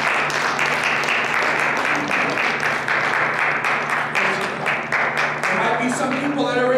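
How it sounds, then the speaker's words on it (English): A church congregation claps together in a steady, rhythmic pulse during a worship service. The claps are loud and close, spread across the whole room, with voices mixed in underneath. "Can you clap your hands for one more time?"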